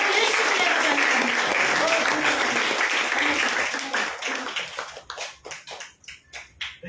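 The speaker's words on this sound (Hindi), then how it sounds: "जोर से ताली बजाएंगे प्रभु यीशु के हमेशा के लिए बजाएंगे।" A congregation at a Good Friday church service clapping loudly, a dense roar of many hands that thins after about four seconds into separate, uneven claps before fading.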